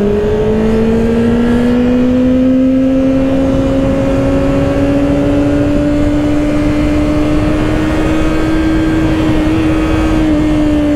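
A 2024 Kawasaki Ninja ZX-6R pulls hard on the throttle, its engine note climbing steadily over sustained loud wind roar throughout, heard close from the rider's position on a freeway.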